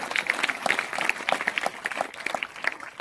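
Audience at a religious gathering clapping steadily, a dense run of handclaps from a crowd, close and fairly loud for a few seconds.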